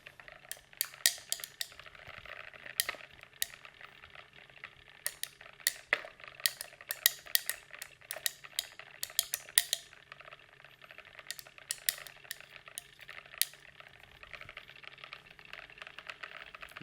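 Chamomile dye solution stirred with sodium carbonate in a container: rapid light clinks and taps of a stirrer against glass, scattered and irregular over a faint steady hum, close but fairly quiet.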